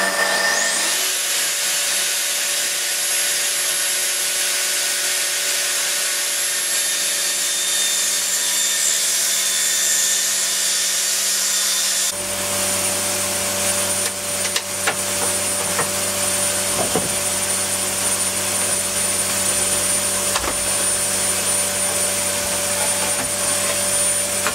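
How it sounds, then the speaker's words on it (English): A track saw cuts through a panel in a small workshop shed with vacuum extraction running, a loud steady whine and roar that shifts in pitch halfway through as the cut changes, continuing without talk. "what I might do is just get the track saw and pop the blade on 25mm down and go around the four sides"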